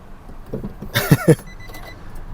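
Nissan Navara 2.5 EL Black Edition 2019 automatic with push-button start, heard as a brief cranking burst and a couple of sharp starter thumps, close up, followed by quiet idle-level noise.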